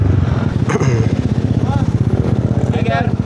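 A motorcycle engine near a motor show putters with a rapid, steady idling pulse, loud and close, while people talk over it.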